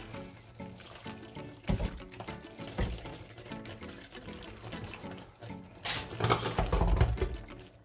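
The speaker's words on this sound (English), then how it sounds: "I'm going to add a bit more water to the pan." Hot water pours into a pan used for hand dyeing yarn, a gurgling, splashing stream running unevenly for several seconds and swelling louder near the end, close by with no talk.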